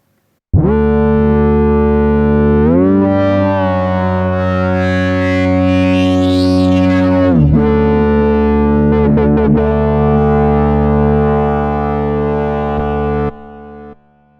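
Korg Prologue 16 analogue synthesizer playing a sustained, harmonically rich distorted tone with boost engaged at full gain, a pitch sweep rising then dropping midway, heavy bottom end, loud and alone until it cuts off near the end.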